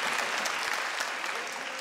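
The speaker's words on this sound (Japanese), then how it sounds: "さあ、皆さん、 渚高楽、みんな手拍子" Audience clapping in rhythm at a Dragon Gate pro wrestling show at Korakuen Hall, a dense steady wash of applause from a large crowd filling the hall.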